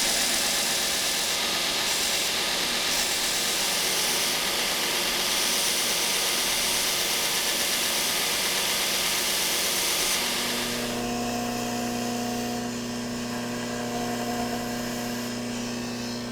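A small grinding wheel cleans up a steel spacer bar on a knife, giving a loud, close, steady high whine and rough grinding that gives way to a lower, humming spin-down near the end.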